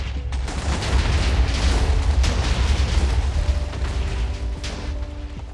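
Fireworks exploding in the Minecraft video game, a loud continuous barrage of booming blasts and crackling bursts rolling together for several seconds with no talk.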